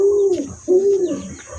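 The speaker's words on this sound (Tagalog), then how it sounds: "Ayan yung mga kalapati nating lalaki." Male pigeons coo twice up close, each a soft, low, rolling call with a short pause between.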